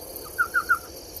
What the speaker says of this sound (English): There's an elf owl calling